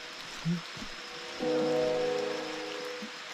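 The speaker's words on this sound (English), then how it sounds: "And of course it's raining" Soft, steady rain hissing and pattering all around in a Colombian jungle, joined midway by a sustained low humming drone that slowly fades.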